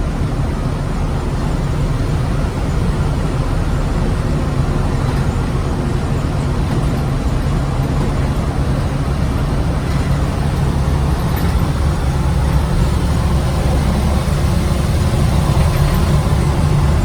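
A 1971 Bahama Blue Ford Bronco drives over a rutted, bumpy road, heard from inside as a loud, continuous engine drone and road rumble with no break.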